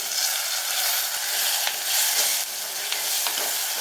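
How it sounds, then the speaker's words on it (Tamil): Tomatoes sauté in a pan for a fish curry, making a continuous bright hiss and sizzle with faint stirring scrapes, close and even in loudness. "இப்போ தக்காளி நல்லா வதங்கி பேஸ்ட் ஆகணும்"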